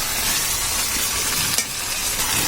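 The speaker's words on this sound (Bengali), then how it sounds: "এখন ভালো করে এটা মিক্স করে নিব সব মশলার সাথে যাতে মিশে যায়" Shrimp and dried fish being stirred with spices in a hot pan for a Bengali dal dish, with continuous loud sizzling and scraping close by and a brief clink partway through.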